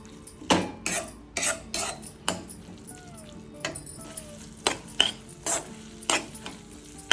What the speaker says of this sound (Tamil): கீரையை இந்த மாதிரி ஒரு 3-4 நிமிஷம் வதக்கி விட்டுக்கணும்.